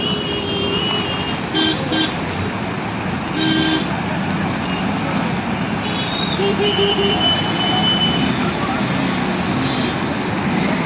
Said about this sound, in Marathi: तर गाडीचा ट्रॅफिक बघा तुम्ही कुठंपर्यंत लागला आहे